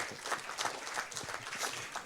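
An audience applauds Charles Dreyfus, grandson of Alfred Dreyfus, with soft, steady clapping from a modest crowd in a hall, faint and continuous throughout.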